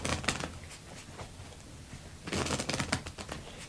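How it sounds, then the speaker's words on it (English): Playing cards are shuffled in two quick bursts, a crisp fluttering riffle, then a pause, then another riffle, close up and with no talking. "I'm going to take them and I'm going to give them a few shuffles here."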